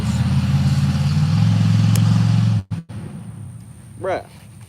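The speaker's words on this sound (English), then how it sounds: "The truck doesn't even sound that good." A pickup truck engine idles loudly and rumbles steadily with clatter, then cuts off abruptly, followed by quieter background noise and a brief rising whine near the end.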